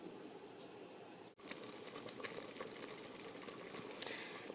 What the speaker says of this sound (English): So I've got a full rolling boil finally going